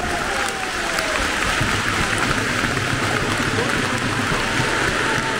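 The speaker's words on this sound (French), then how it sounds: "Chardonnay qui sort sous les applaudissements du Stade Leblay malgré son carton rouge." Stadium crowd at a Breton derby football match applauding as a red-carved player leaves the pitch, a steady, loud wall of clapping and crowd noise throughout.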